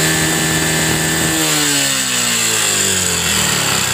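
Yamaha Jupiter MX motorcycle running rough at the exhaust, a loud, steady and harsh engine note with a gritty buzz that shifts slightly in pitch partway through, heard alone without talk.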